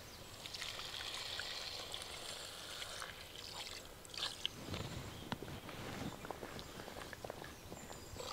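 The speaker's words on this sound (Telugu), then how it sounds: "ఇప్పుడు ఇగురికి సరిపడా నీళ్లు పోసుకుందాం." Water streams into a pan of River Pomfret (Roopchand) fish curry with masala, a steady close trickling and splashing rush that runs through the whole stretch, growing slightly choppier toward the end.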